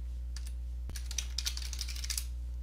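Computer keyboard keys are pressed in a quick run of light clicks over a steady electrical hum, close and alone, with one sharper thud just before the typing.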